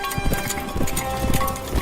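Rhythmic hoofbeats clip-clop at a steady trot amid background noise, muffled and moderately close.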